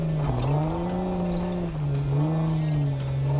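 A Jeep Wrangler engine revs as it climbs a steep dirt road, its tone rising and falling in a strained, wavering drone, up close and loud throughout.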